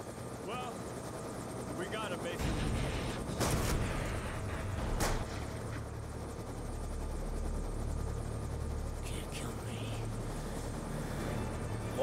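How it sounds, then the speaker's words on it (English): Helicopter in the video game Black Ops 2, its steady rotor and engine drone running throughout with a few sharp bursts and impacts over it, while a person talks over the top. "That chopper takes off, he's gonna fall right off of that shit."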